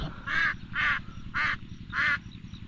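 Ducks being herded on a farm, four loud, nasal quacks in an even rhythm, close by, over a low rumbling background.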